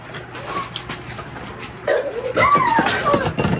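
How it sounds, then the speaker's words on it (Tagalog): A dog barks and yips a few times at moderate distance, short sharp calls with some whimpering, over low background noise. "may aso pala doon"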